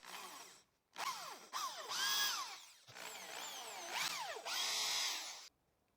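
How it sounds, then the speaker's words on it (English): Hand drill fitted with a 3.5 mm countersink bit boring holes into pallet wood, several loud whirring bursts with rising and falling pitch as the bit spins up and bites, separated by short pauses, no talk. "I'll drill holes at the marked points."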